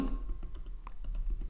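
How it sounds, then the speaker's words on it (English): Soft keystrokes on a Mac keyboard as a terminal command is typed, a faint, quick patter of key taps over a low steady background hum, with no voices. "So I will type wine"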